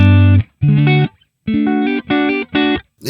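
Clean electric guitar through a Fender Twin into a 4x12 cabinet with Celestion Greenbacks, dry with no reverb or delay, playing five or six separate sustained chords with short gaps, loud and close.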